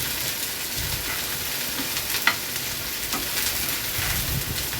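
Soft fish lightly fries in a pan in a home kitchen, giving a steady, close hiss of sizzling oil with a few small pops and crackles. No one speaks.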